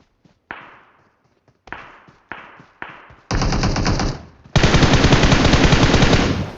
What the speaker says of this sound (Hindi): यहाँ पर मैं उस बंदे पे फायर करने लग जाता हूँ